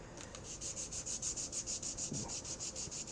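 Leather edge beveler rubbed back and forth over cardboard loaded with jeweler's rouge, a quiet close rhythmic scraping of about twenty even strokes, with no talking.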